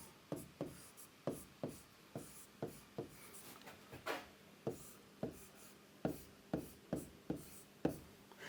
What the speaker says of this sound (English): Therefore, here I'll write the equation.